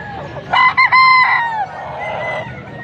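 A rooster crows once, loud and close, its drawn-out call breaking into several harmonic bursts at a cheap chicken market in Angeles, Pampanga, followed by a low murmur of background noise.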